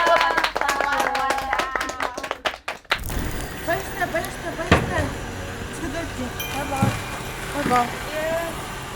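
Audience applause for participants' work at a salon segment of a fitness show, a burst of sharp, dense clapping at the start that gives way to a busier room with voices and other sounds.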